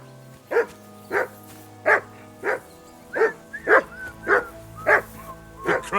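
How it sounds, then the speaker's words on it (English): A dog in the medieval game Kingdom Come: Deliverance 2 barks about ten times in a steady rhythm, loud and close, over a low droning game soundtrack. "Call off that damn dog before he wolfs down the last of our meat."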